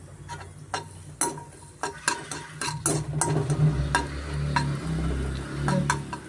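Cashews and raisins fry on medium flame in a pan for mango kesaribath, with a steady sizzle beneath sharp scraping clicks of a spoon stirring through them at close range.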